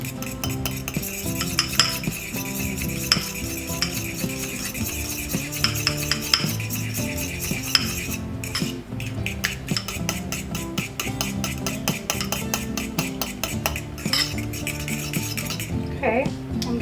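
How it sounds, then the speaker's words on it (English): Egg yolks are whisked with sugar in a bowl, the whisk knocking and scraping steadily against the sides in a quick, continuous rhythm, close and clear with no talking. "First, I'm going to whisk my egg yolks."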